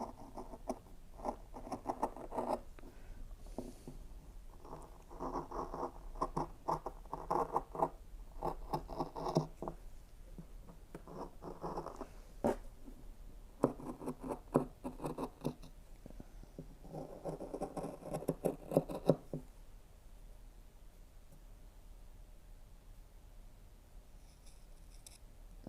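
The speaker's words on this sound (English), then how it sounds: "I am just going to go right ahead and cut up this white line." Scissors cut up a knitted steek in a series of soft, close snips in clusters, pausing briefly between runs before falling quiet near the end.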